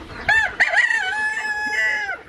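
A rooster on a backyard farm crows one long, loud cock-a-doodle-doo close by, with a couple of short clucks just before it, in the evening during chores.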